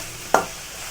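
Cut bitter gourd frying in oil gives off a steady low hiss, broken once by a short, sharp stirring clack partway through.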